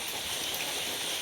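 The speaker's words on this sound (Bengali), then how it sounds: "ঝুম ঝুম করা বৃষ্টি নামছে" Heavy rain pouring down in a steady, dense hiss that fills the whole moment at moderate loudness, with no other sounds standing out.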